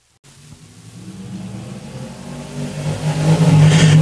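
Race cars at US 36 Raceway accelerate together, engines rising from a sudden start into a loud, building roar that swells toward the end.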